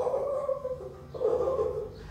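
A teacher imitates a monkey with her voice, making a couple of wavering, nasal 'ooh-ooh' hoots in two bursts, close and fairly loud.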